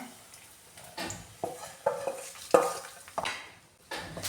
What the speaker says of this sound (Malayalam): ഇനി ഇത് നന്നായി ഒന്ന് മിക്സ് ചെയ്ത് കൊടുക്കാം